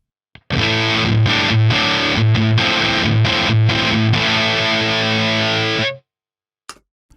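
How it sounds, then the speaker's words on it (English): Electric guitar run through a fuzz pedal, a loud, buzzy, heavily clipped tone sustaining chords and riffs for about five seconds before stopping abruptly, followed by a couple of faint plucks. "And the fuzz pedal."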